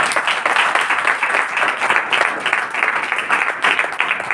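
A church congregation claps loudly together during a Hindi sermon, a dense, steady wash of hand claps filling the room for several seconds with no voices over it.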